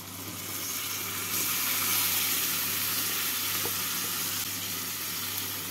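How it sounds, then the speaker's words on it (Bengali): Banana stem (thor) tipped into spices fried with potato in a pan, giving a steady loud sizzle and hiss that swells after the first second and holds, with faint stirring scrapes. "মশলাটাকে কষিয়ে নিলাম। এবার এর মধ্যে দিয়ে দিচ্ছি আমি থোড়।"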